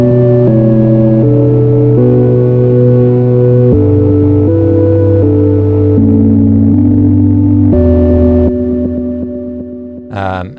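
The Keys Dust synth lead preset from the Analog Explorations pack, used in a dreamy progressive house track, plays loud, sustained tones alone. It moves through a run of held notes that change pitch every second or so, then fades near the end before a brief bright flourish.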